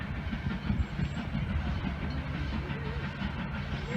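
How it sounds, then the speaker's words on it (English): A steam train rumbles through a rail yard, a steady low clatter of wheels and cars at moderate distance, continuous throughout. "First ever steam train I've ever filmed."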